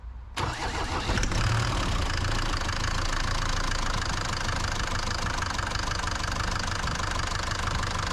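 A Mercedes 208 van's diesel engine cranks briefly, catches and settles into a steady, loud, rough idle with a clattery knock, heard close and alone.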